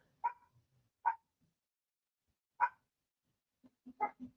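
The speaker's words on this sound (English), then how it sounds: "barking at the people on the sidewalk" A dog indoors at a door barks at people passing on the sidewalk outside: four sharp single barks spaced irregularly, the last followed by a few softer low grunts, fairly quiet with silence between.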